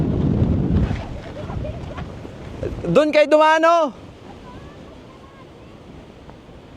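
Strong wind gusting over a small mountain near Las Vegas roars as broadband rumble across the clip, loudest early, with people talking nearby and a brief tonal whine midway.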